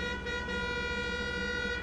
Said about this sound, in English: Who that honking?